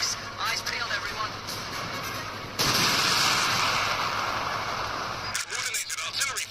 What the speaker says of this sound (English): Coordinated artillery fire is on the way.